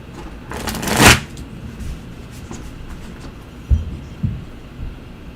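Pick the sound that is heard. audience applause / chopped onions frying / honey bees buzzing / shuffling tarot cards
shuffling tarot cards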